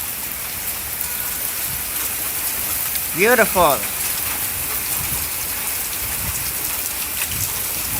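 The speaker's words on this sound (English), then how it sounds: "And some much needed rain." Steady rain pours down outdoors after a tornado thunderstorm, an even, close hiss of drops on surfaces throughout, with a brief spoken word partway through.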